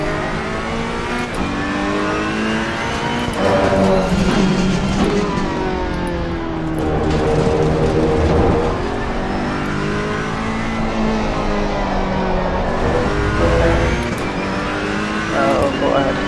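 A race car engine drones and revs steadily in a sim racing video game, loud and continuous throughout, with a person talking over it.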